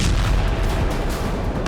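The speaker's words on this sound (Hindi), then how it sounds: "पहले एक जोरदार धमाका हुआ और फिर कई छोटे छोटे ब्लास्ट होने लगे।" Explosions during an attack on a Ukrainian military convoy near a rail line, a dense, loud, rumbling burst of blasts with crackling follow-up bangs.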